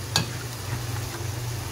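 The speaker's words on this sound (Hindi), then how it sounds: "अब इनको डाल के हम भुनाई कर लेंगे" Chicken mince fries and sizzles in a pan for a cheesy chicken lasagna, a steady close hiss with light stirring scrapes and a single sharp clink near the start, no talking.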